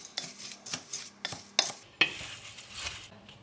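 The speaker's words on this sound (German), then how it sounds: "20 Gramm Chiasamen und 20 Gramm Flohsamenschalen. Und das verrühre ich jetzt erstmal." A utensil stirs dry chia seeds and psyllium husks in a bowl, giving close scraping strokes with sharp clinks against the sides, in an irregular rhythm.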